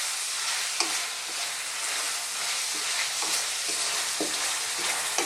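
Ginisang papaya with malunggay leaves sizzles steadily in a hot pan while a spoon stirs it, giving a continuous frying hiss with soft scraping strokes at irregular intervals and no talking.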